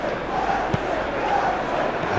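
Stadium crowd noise in a Manchester United versus Tottenham Premier League football video game, a steady wash of distant cheering with one short sharp thud, and a faint voice speaking over it.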